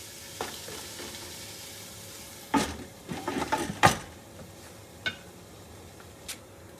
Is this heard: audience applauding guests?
no